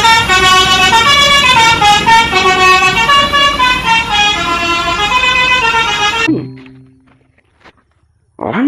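An STJ Draka bus passes close by, its horn sounding a loud, sustained musical multi-tone melody for several seconds before cutting off into near silence, with a brief faint knock at the end.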